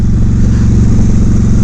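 A cruiser motorcycle engine over 800cc idles with a steady, loud, low throbbing rumble that holds even throughout, with no voices.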